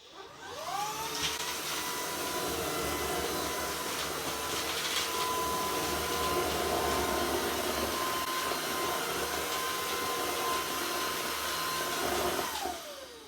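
A Shark IF250UK cordless vacuum cleaner runs steadily on low power picking up cookies, a constant close whine and airflow roar with slight shifts in tone as it moves, starting and winding down at the edges.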